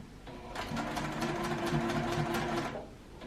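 A sewing machine stitches straight lines across a small quilted scrap pincushion, a steady rapid mechanical whir running close and fairly loud for most of the stretch, starting and stopping at the ends.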